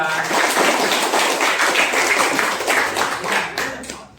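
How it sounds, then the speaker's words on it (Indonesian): A classroom group claps together in dense, continuous applause that tapers off toward the end. "Tepuk tangan dulu untuk kelompok 2."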